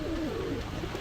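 Big-sized blue-bar Lahori pigeons cooing softly nearby in a few low, rolling calls, with no talk over them.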